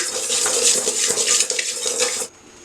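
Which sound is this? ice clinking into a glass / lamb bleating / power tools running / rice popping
rice popping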